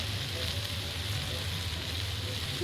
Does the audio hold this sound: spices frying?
yes